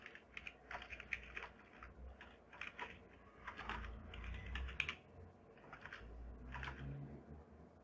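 Keys pressed on a computer keyboard, including the Ctrl and Esc combination in Windows, heard as a quiet run of close, irregular tapping clicks in quick bursts, faint and without talk.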